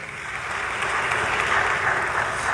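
Audience at a high-level panel session applauding, a steady sustained wash of clapping from a room full of people, loud and continuous throughout.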